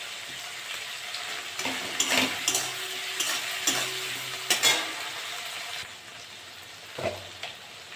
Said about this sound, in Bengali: ভালো করে ভেজে নেবো। আদা বাটা দিয়ে দেবো।